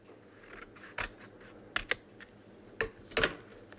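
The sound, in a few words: scissors cutting paper heart shape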